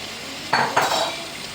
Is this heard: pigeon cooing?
no